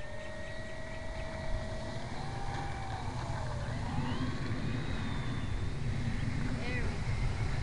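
An FMS F4U Corsair 1400mm RC model plane flies overhead, its electric motor and propeller whining steadily under outdoor wind noise, with a pitch that rises and falls as it passes.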